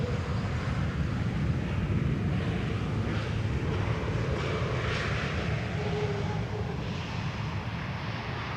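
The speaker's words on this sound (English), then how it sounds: "This is KLM flight 1602, arriving from Rome. A321neo" KLM Airbus A321neo arriving from Rome on the Polderbaan runway at Schiphol, a continuous low rumbling engine roar at moderate distance, steady throughout with a wind-like wash and no voices.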